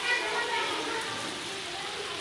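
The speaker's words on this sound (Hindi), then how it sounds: "देखो भाई बारिश जो है वो तेज़ आ चुकी है अभी" Heavy rain pouring down outside a school: a steady, dense hiss of falling water that fills the whole clip, even and fairly quiet overall.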